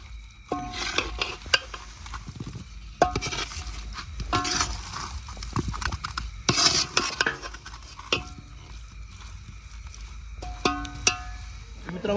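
Potato mixture being stirred in a pan, with soft scraping and clinking of a spoon against metal, light sizzling underneath and occasional sharper taps, fairly quiet and close.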